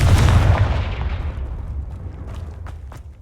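A Confringo blasting spell goes off in Hogwarts Legacy, a loud booming explosion at the start that rolls into a long, decaying rumble with a few faint crackles near the end.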